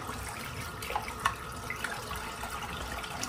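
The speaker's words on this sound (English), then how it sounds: "Rinse the soap out." A bathroom tap runs steadily into a sink while soap is rinsed off after a head shave, a soft, continuous splashing stream with small drips and clicks.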